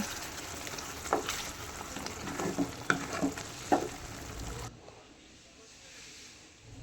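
Hot garlic chicken, salted, being stirred in a frying pan: a steady close sizzle broken by several sharp scrapes and knocks of a spatula, then a sudden drop to a faint hiss.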